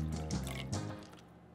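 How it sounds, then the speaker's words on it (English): Hot black tea is poured onto bergamot peel. A soft, close liquid trickle and splash fill a short moment, then fade. "I'm going to pour it onto even more bergamot."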